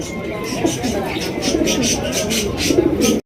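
A dense, continuous chorus of pigeons cooing close by, low throaty murmurs overlapping with a faint babble behind them.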